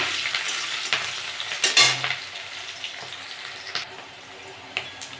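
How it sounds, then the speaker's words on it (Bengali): Onions with green chilli tossed into hot oil over cumin seeds, crackling and sizzling loudly in the pan with scraping stirs and a few utensil clinks, strongest early then settling into a steady fry. "পেঁয়াজটা একটু ভেজে নেবো"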